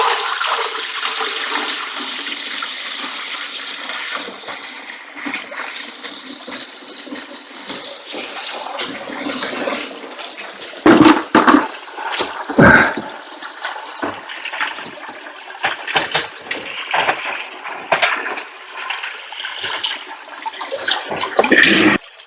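Water gushes and swirls as foam is flushed out from behind a pump in a bucket, a loud sustained churning rush that grows rougher and more broken with sputtering bursts toward the end.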